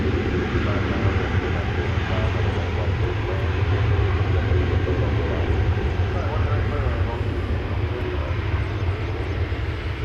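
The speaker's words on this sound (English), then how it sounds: "That is a 36-year-old aircraft. 767-300ER." A 36-year-old Boeing 767-300ER at DFW Airport fills the air with a loud, steady jet engine roar that holds constant throughout, with a faint voice underneath.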